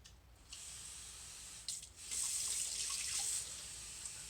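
Warm tap water runs into a cup for a recipe, a faint steady hiss and splash that grows fuller midway and then eases off, with no talking.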